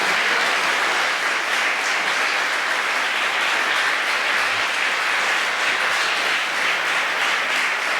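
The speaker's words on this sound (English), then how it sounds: "Let's give them a round of applause." A school assembly audience applauds Eagle Scout award winners, dense sustained clapping from many hands that fills the room evenly throughout, with no talking over it.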